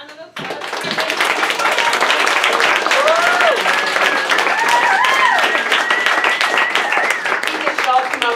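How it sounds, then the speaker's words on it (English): Audience applause fills a lamp shop concert venue, steady sustained clapping from a crowd running throughout, with a few voices and whoops rising over the hands. "Another round of applause."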